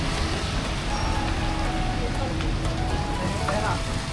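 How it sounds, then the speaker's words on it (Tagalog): Steady rain falls on surfaces near a beach with eateries in El Nido, a dense, even wash of noise running throughout, with faint voices in the background. "Ang ulan."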